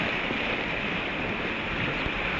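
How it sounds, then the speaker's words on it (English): Whitewater rushes on the Middle Fork Flathead River during a rafting trip, a loud, steady, close roar of churning water with no talking. "feel the power of the water here."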